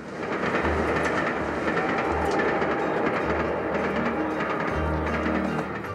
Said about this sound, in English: the trains will run about 6 inches away from the window